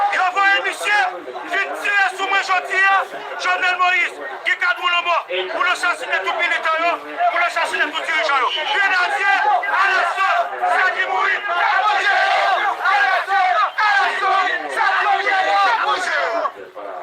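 A crowd of opposition protesters in Haiti gathering in the street, many voices shouting, chanting and chattering together in a loud, dense, continuous roar.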